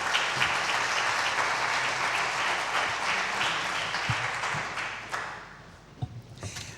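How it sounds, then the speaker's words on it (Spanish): Welcoming applause from a conference audience at the National Library of Spain, a dense wash of many hands clapping together that thins and fades toward the end, with a few last scattered claps. "recibamos a los comisarios y a la vicepresidenta de la sociedad con un aplauso de bienvenida."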